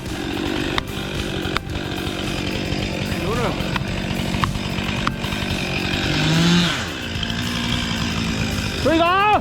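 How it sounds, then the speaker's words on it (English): A chainsaw cutting hardwood runs steadily and loudly, its engine droning with sharp knocks as it cuts, and a voice talks over it. "This is chainsaw performance at its sharpest edge."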